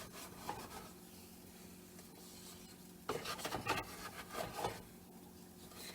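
Homemade air dry clay mixture stirred in a pot, soft scraping and rubbing strokes in irregular bursts, faint and close, with a steady low hum underneath.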